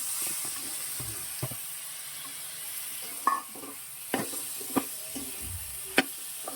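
Ridge gourd pieces hiss in a hot pan under a constant sizzle, with occasional scraping knocks from stirring, close by and without voices.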